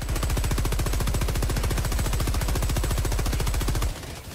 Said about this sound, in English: this machine gun is way better